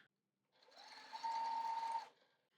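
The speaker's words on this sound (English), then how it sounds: "Then we're going to get the last 2 in the row here and sew them right sides together." A sewing machine stitches quilt pieces together for a patriotic-themed quilt in one steady run of about a second and a half, starting and stopping cleanly with no talk.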